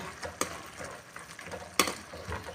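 A spoon scrapes and clinks around a pan of egg gravy, soft stirring strokes with a faint sizzle underneath and two sharper knocks against the metal, no voices.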